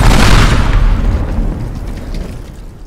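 A loud, deep boom from a video game explosion in İmar Barışı Simulator, hitting hard at once and then rumbling away over about three seconds.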